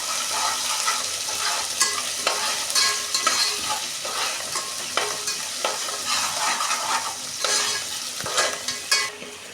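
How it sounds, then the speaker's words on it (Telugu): Ginger garlic paste sizzles and fries in a pan, with frequent stirring scrapes over a steady hiss, loud and close, with no voices. "ఇదిగో అల్లం వెల్లుల్లి పేస్ట్ కూడా అయితే వేగిపోయింది."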